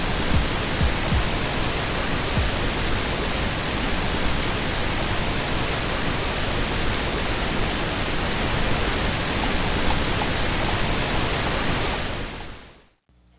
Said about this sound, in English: mixing with pink noise can be irritating